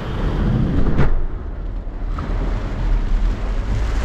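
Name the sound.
strong wind gusts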